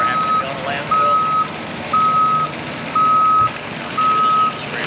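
Backup alarm on a truck reversing at the CAT Tinaja Hills Demonstration Center, five evenly spaced loud beeps roughly one per second over steady engine rumble, close by.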